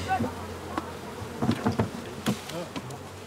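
Honeybees buzz around hives at an apiary, several close passes rising and fading in quick succession over a steady outdoor background, with faint voices at times.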